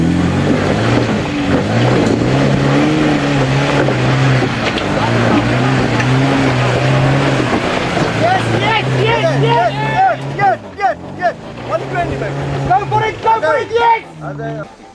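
A 4x4 off-road vehicle pushed hard over an obstacle, its loud, strained engine roaring steadily and then surging in uneven bursts near the end, with a commentator and crowd talking throughout.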